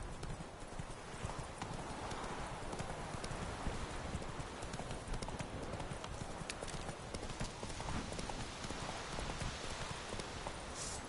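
Roach the horse gallops in The Witcher 3 with steady, close clip-clop hoofbeats running the whole time over a constant rainy wash, with a brief whinny, and no talking.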